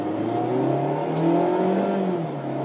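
A 2019 Mazda Miata RF accelerates at full throttle, its engine note climbing steadily in pitch as it pulls hard, loud and close from inside the car, with no talk.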